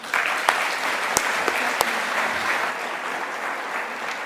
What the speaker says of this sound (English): that applause for the retirement